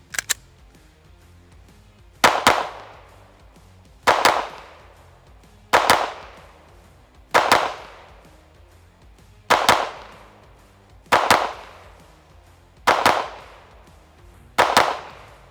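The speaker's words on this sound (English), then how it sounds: "Now when I shoot controlled pairs with this pistol" A Springfield Echelon Comp pistol fires at a target: eight sharp, loud shots, mostly spaced about two seconds apart with one tight pair near the end, each cracking close by and ringing briefly.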